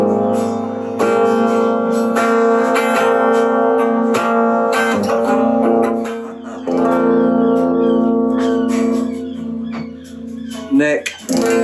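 A 2017 Gibson Firebird electric guitar with very hot pickups, played through an amp turned down to stay clean: strummed and picked chords ring out steadily, with bright sustained tones and occasional sharp attacks.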